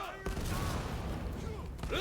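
Cannon fire in the video game Rise of the Ronin, a sustained rumbling volley of booming shots that rolls on for a couple of seconds, with faint game sounds around it.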